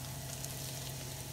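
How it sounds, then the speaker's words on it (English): Corn cooking with butter in an Instant Pot gives a faint, steady sizzle and soft bubbling hiss that stays even and continuous. "The corn has been cooking for a little while."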